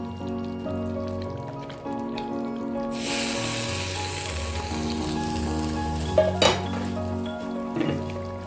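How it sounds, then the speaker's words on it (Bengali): Garlic and kasuri methi hit hot ghee for a tempering and sizzle with a sudden hissing burst, a close steady crackle, with a couple of utensil clinks and background music underneath. "ঘিয়ের মধ্যে রসুন ফোড়ন আর কাসুরি মেথি দিয়ে একটা ছক মেতে দিয়ে দিলাম।"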